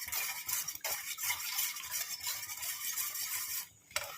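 Homemade cream being stirred steadily in a pan on the stove, with continuous scraping and clinking of a utensil against the pan, fairly close and without pause, with a brief louder knock near the end.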